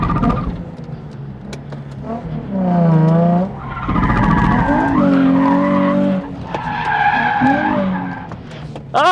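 A completely stock Nissan 350Z drifts with its tires skidding and squealing in long, loud wavering screeches, broken by short pauses, as the engine revs beneath.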